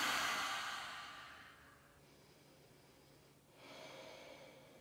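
A slow yoga exhale drawn out through the mouth, breathy and soft, fading over a couple of seconds before a second gentle breath swells near the end, close and quiet with no talking.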